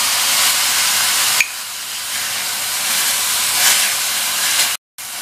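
Loud, close sizzling hiss as about a tablespoon of water hits a hot pan of beetroot being sautéed, briefly easing and then carrying on steadily before stopping abruptly.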